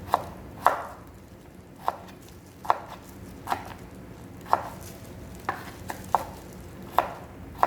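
A knife chops radish into thin julienne strips for making sikhae, crisp board knocks landing at a slow, fairly even pace with a soft hiss of slicing between strikes.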